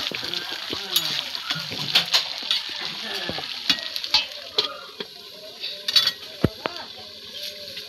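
Bottle gourd being stir-fried in a pan in a village kitchen, heard as steady sizzling with scraping and clinking of a spatula stirring, close, with faint voices underneath.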